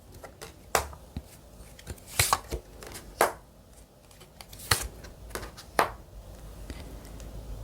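Tarot cards being shuffled by hand at close range, quiet irregular riffles and soft slaps in separate bursts over a faint background.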